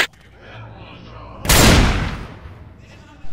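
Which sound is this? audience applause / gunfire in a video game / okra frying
gunfire in a video game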